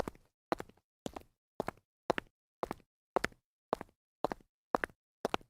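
Footstep sound effect added to a faked ghost video: about eleven evenly spaced, crisp steps at a steady walking pace, close and clear against silence between each step.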